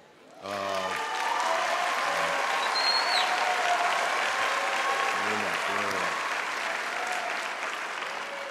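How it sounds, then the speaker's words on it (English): A large audience at a graduation ceremony breaks into sustained applause and cheering that swells and holds, with a voice briefly heard over it. "You can applaud at that."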